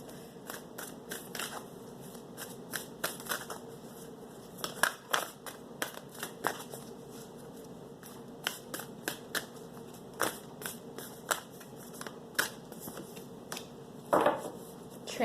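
A deck of tarot cards is shuffled by hand for a reading, making crisp, close riffling snaps and clicks in irregular bursts against a quiet room, with no speech.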